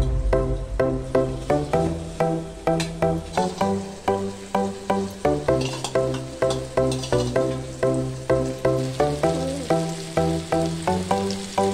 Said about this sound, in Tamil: அதில் நம்ம ப்ரிப்பேர் பண்ணி வச்சுருக்க நெத்லி மிக்சரை எண்ணெய் காஞ்சதும் போடுங்க.